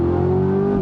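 A 2024 Chevrolet Corvette Convertible engine with the top down gives a brief, steady droning note, loud and close, with no talking.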